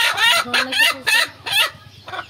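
Hens cluck loudly and repeatedly in a chicken coop, several close bursts of clucking in an uneven rhythm with short pauses between them.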